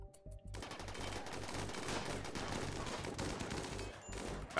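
Rapid bursts of gunfire in the RimWorld video game as colonists man mounted guns during a fight, with dense overlapping shots that continue without pause and no voices.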